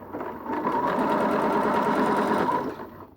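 A sewing machine stitches trouser fabric in a steady, fast mechanical whir with rapid needle ticking, close and clear, starting and stopping after about three seconds with no talking.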